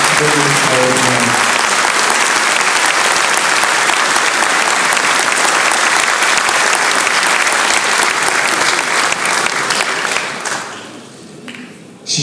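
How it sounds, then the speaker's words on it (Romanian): An audience at a sports champions' awards gala gives loud, sustained applause, dense clapping filling the hall for about ten seconds before tapering off, with brief voices at the start and end. "Vă rog frumos, aplauze pentru acești domni extraordinari."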